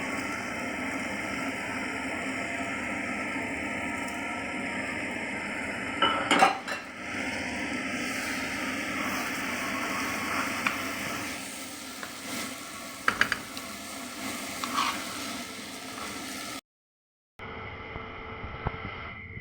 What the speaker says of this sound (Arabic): وهنحط الرز البسمتي، نشوح كله مع بعضه